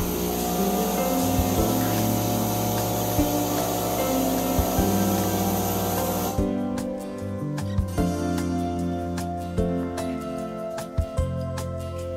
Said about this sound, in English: Now it's gonna rinse for a couple of seconds, and we'll go right back up.